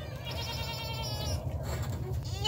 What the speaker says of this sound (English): Our fainting goat.